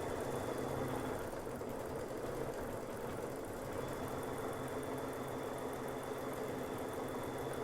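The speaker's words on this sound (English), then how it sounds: "I'm just going to go ahead and let it stitch the word home in the exact same color." A home embroidery machine stitches out a word on a mug rug, a steady, fast mechanical whir with a continuous buzzing rhythm at close range.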